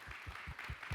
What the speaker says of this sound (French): Donc un applaudissement pour eux,